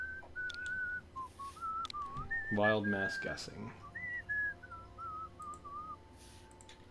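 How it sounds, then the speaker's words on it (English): Melodic whistling of a tune, a continuous wandering line of notes, with someone briefly talking partway through over quiet background noise, during a Super Mario Maker 2 session. "I hear you whistling that song."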